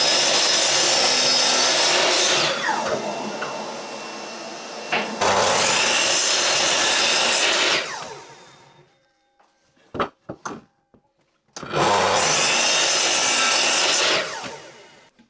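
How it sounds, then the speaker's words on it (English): A bandsaw cuts reclaimed wood blocks down to 3/8 inch thickness. Three long, loud rasping cuts are separated by pauses, and the quiet gaps hold a few sharp knocks and clatters as the wood is handled. "then I'm going to take them to the bandsaw and mill them down to 3/8 of an inch thick"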